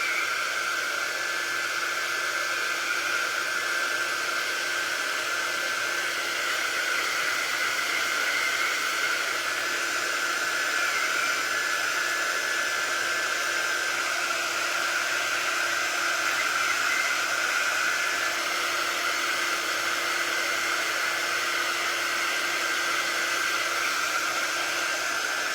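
A hair dryer blows steadily to dry thick paint, a loud continuous whir with a constant tonal hum, running alone without pause throughout.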